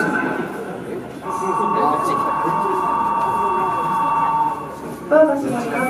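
A Keio Line model train pulls away on the Kato hobby center layout in Tokyo, a sustained motor whine with steady tonal hum lasting several seconds, then a brief voice near the end.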